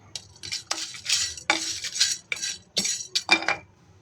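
Whole nutmeg and star anise drop into a pan for Telangana mutton masala, giving a quick run of close metallic clinks and scraping stirs in an irregular rhythm, with no talk.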